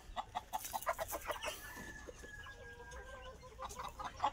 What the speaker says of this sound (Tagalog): so di ata sa ato ang mga binuhi nga mga manok